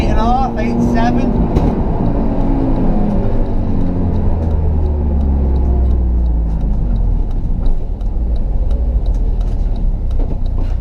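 A track-spec Honda Civic FN2 engine runs loud and continuous, its pitch rising and falling as it revs, with a brief voice at the start.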